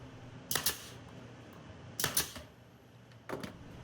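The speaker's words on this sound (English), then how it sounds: "I'm using brad nails just to temporarily hold all the pieces together" Brad nailer driving nails into wood pieces for a bucket planter, three sharp pneumatic clacks spaced a second or more apart over a faint steady background hum.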